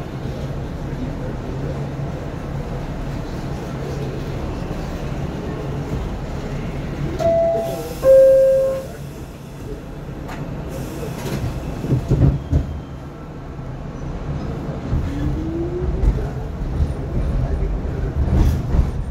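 R62 subway train riding the IRT Broadway-7th Avenue Line in New York, a steady low rumble of wheels and car noise throughout, with a brief squeal and clanks midway and a person speaking briefly over it.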